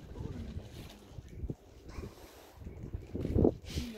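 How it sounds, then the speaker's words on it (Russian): Strong wind blowing outdoors on a cold spring day after rain, heard as gusty buffeting rumbles against the microphone that rise and fall, with a harder gust near the end. "Правда, на улице ветряга."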